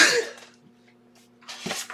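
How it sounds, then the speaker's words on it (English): A single sharp sneeze bursts out close up, followed by quiet and then a short breathy exhale. "Oh no, I'm gonna sneeze."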